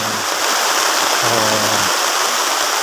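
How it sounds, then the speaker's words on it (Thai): Heavy rain pours steadily onto a road on Koh Samui, a dense continuous hiss throughout, with a faint low vehicle hum passing briefly in the background. "ฝนตกเต็มที่นั่นอยู่ถนนอยู่นั่น รถวิ่งอยู่นั่น"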